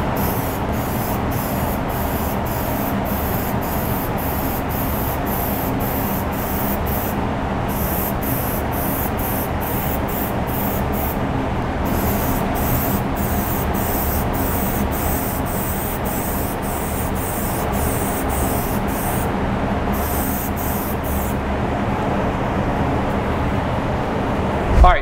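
Spray paint cans hissing for hydrographics, a loud, steady aerosol spray running continuously for about 25 seconds with only brief breaks.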